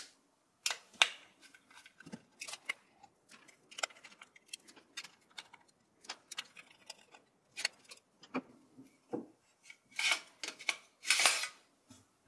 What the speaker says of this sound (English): Let's get it out by removing the 4 screws that hold it in place.